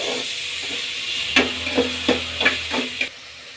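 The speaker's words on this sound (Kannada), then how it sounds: "ಈಗ ಚೆನ್ನಾಗಿ ಮಿಕ್ಸ್ ಮಾಡಿಸ್ಕೊಳ್ಳೋಣ" Onions and tomato stirred and frying in a pan, a soft continuous sizzle with a few scraping stirs of a spoon in quick succession, close and moderately loud, with no talking.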